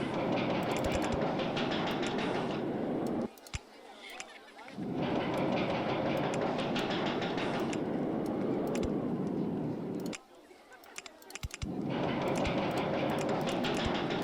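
A roller coaster train in RollerCoaster Tycoon 2 rumbles and clatters along a launched lift hill. The loud rattling track noise stops briefly twice, and a voice speaks over part of it.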